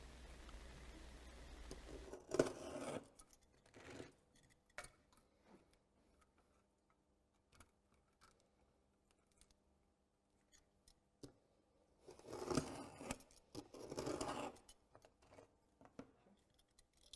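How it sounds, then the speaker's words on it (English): A bitumen roof tile strip is cut into sections in a few short, faint snipping bursts with long quiet stretches between them, close and without talking. "Cut a tile strip into 4 sections to prepare the 4 ridged tiles"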